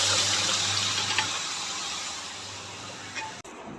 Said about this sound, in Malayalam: ഇനി നമ്മൾ കുക്കറിൽ വേവിച്ച ബീഫ് ഇതിലോട്ട് ഇട്ട് കൊടുക്കുക. അതിൻ്റെ അകത്ത് കുറച്ച് വെള്ളമുണ്ട്.